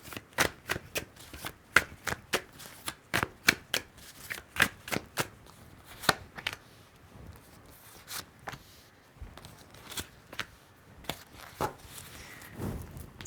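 Tarot cards being shuffled and drawn from a deck, a steady run of close, crisp riffling snaps and soft slides with short pauses between bursts, no talking.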